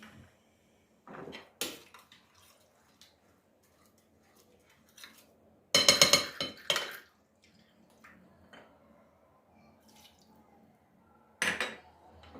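A spoon clinks and scrapes against a bowl as tomato paste is stirred with a little water in a home kitchen, with a few sharp bursts of clattering between quiet pauses and no talking.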